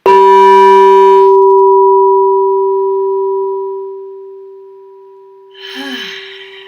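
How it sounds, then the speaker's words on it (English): A throat chakra singing bowl rings with a steady bright tone, struck once and sustaining long with overtones that slowly fade, followed near the end by a short breathy voice sound. "I got my throat chakra sound bowls in today."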